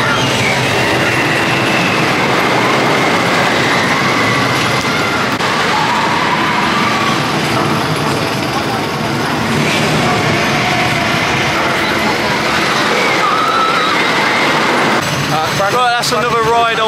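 Riding the Wicker Man wooden roller coaster at Alton Towers: a loud, continuous rumble and clatter of the train on the track, with riders' voices audible, and a ratcheting mechanical rattle near the end.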